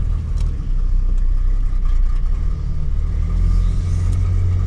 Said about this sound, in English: Just giving a tiny little bit of gas.